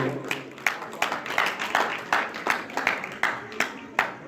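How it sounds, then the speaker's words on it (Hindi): An audience at a live Chhattisgarhi folk song performance claps in a steady, quick rhythm, each clap crisp and close, with voices murmuring underneath throughout. "एक बार जोरदार ताली बजाओ"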